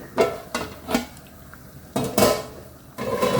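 Metal pot lid lifted and clattered off a pot of brinjal and cowpea curry, a few distinct close clanks and scrapes in a quiet kitchen, the last rattle ringing on over a low simmer.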